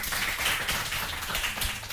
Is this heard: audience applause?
yes